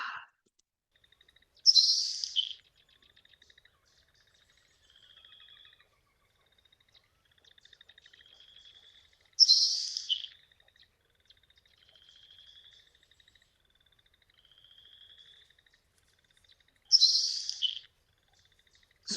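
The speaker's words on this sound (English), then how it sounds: "listen to the LeConte sparrow kind of bacon sizzle call" A LeConte's sparrow in a marsh gives three harsh, insect-like sizzling bursts at regular intervals, with faint thin high notes in between, heard alone against silence.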